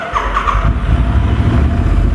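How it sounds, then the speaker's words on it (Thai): A 2019 Royal Enfield Continental GT650 with its stock exhaust idles steadily and loud up close, with a brief rev rising at the start and a smooth, even engine rumble afterward. "ท่อเดิมนะฮะมาฟังเสียงท่อนี้กัน"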